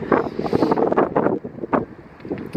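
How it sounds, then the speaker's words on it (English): Strong wind buffeting a microphone outdoors on a blustery day, loud rumbling gusts that rise and fall unevenly throughout, no clear speech over the roar. "You probably can't hear me because of how windy it is"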